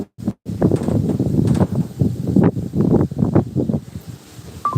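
Gusty wind from Cyclone Remal blusters through trees around a house rooftop in loud, irregular bursts of rustling and rumbling buffeting, with brief pauses between gusts.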